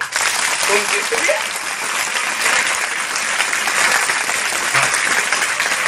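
Loud, sustained audience applause at a rural Marathi literary gathering with a poetry session, a dense wash of clapping filling the full six seconds with a few voices briefly audible within it.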